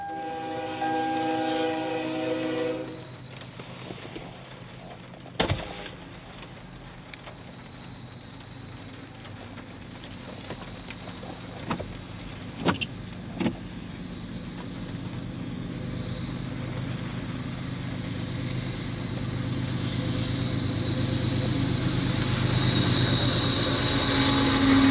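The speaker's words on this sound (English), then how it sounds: "Did you hear that turbo? I think it was whistling away." A BNSF locomotive idles with a steady rumble, then revs up as a high turbo whistle rises and grows louder toward the end, with a few sharp clanks along the way.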